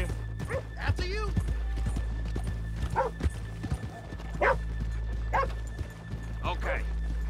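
Horses' hooves clip-clopping in the video game Red Dead Redemption 2, a moderate steady beat under a busy town soundscape with dogs barking and yipping and people talking.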